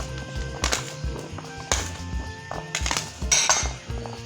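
Chana chaat tossed with chaat masala in a bowl, with a spoon clinking and scraping against the dish in irregular bursts, close and clear, with no one speaking.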